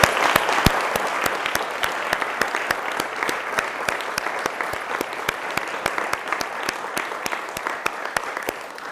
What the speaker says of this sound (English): let's join together and give them all one more round of applause